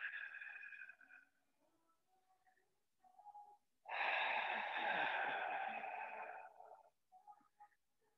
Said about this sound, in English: Inhale through your nose into the chest, and then exhale as you begin your work.